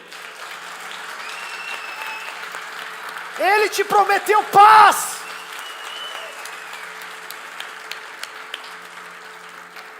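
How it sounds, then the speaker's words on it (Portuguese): A church congregation applauds softly and steadily in the background, while a preacher's voice briefly rises above it midway. "Você pode aplaudir a Jesus por isso?"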